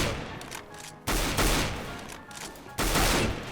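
Gunfire in the video game CS:GO, two sharp bursts of rapid shots roughly two seconds apart, loud and close.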